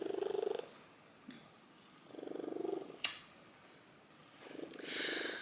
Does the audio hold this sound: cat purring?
yes